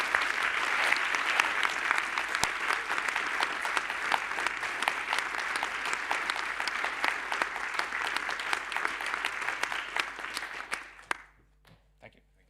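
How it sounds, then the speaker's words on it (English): A conference audience at POPL 2024 gives a sustained round of applause for distinguished paper award winners, dense and steady for about eleven seconds before tapering off to a few scattered claps and near silence. "Let's have one more round of applause for all our distinguished paper awardees."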